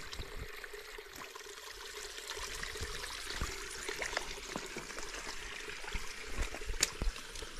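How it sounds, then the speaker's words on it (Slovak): Water flowing steadily out of an old mine opening, a soft continuous trickling and pouring that runs throughout at low level with small splashy accents. "lebo stade vyteká voda"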